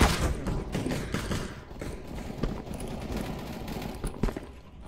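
Gunfire in Counter-Strike: Global Offensive, a quick series of sharp clicking shots and mechanical weapon clatter, fairly faint and irregular, with no talk.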